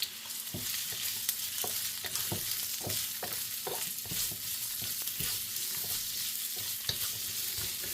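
Garlic and ginger stir-frying for bok choy in a hot pan, a constant bright sizzle broken by irregular scrapes and clicks of a utensil stirring, close and fairly loud with nobody speaking.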